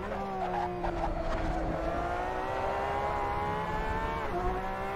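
A Porsche 911 RSR race car in a Le Mans video game holds a high engine drone, then its pitch dips as it brakes and drops a gear, with the engine note steady and close throughout and no talk.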